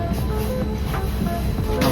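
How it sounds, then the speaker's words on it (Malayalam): A brightly coloured passenger train in Europe rumbles with a steady, fairly loud rolling roar and faint rail clatter throughout, heard from close by. "നമ്മൾ ട്രെയിൻ വന്ന് ഇറങ്ങി"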